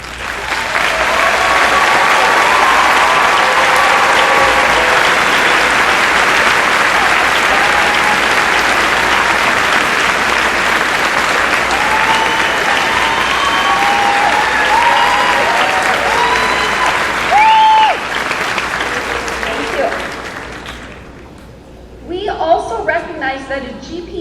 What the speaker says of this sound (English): would all of you with honor stoles please stand and receive our applause